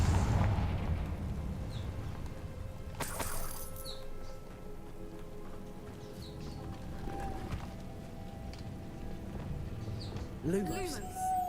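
Confringo fire-blast spell cast in Hogwarts Legacy, heard as a couple of sharp bursts among game effects while a player talks over it.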